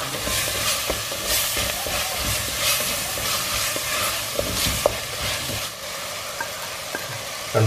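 Crushed shallots and green chilli sauté in hot oil for a pearl spot fish dish, with a steady close sizzle broken by repeated scraping and stirring strokes and a few clinks, and no voices.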